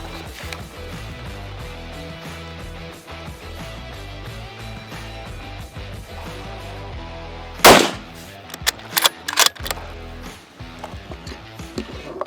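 A Sako 90 rifle fires RWS ammunition at a 100-yard range: a single sharp, loud shot cracks out after a quiet stretch, followed by a few short metallic clicks and knocks.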